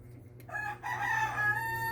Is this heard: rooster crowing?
yes